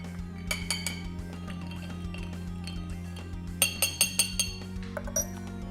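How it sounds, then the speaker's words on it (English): A spoon stirring a drink in a glass, producing rapid bright clinks against the glass in clustered bursts, close and clear over a steady low background hum. "Then we give it a nice stir."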